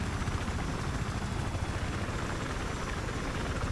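Helicopter in the Battlefield 3 video game, its rotor thumping as a steady, loud, dense low-frequency drone throughout with no talk over it.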